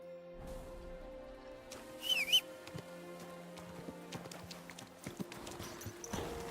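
Horse hooves clip-clop in Kingdom Come: Deliverance II, a quiet run of distinct footfalls over a soft musical background, with a brief whinny-like cry early on.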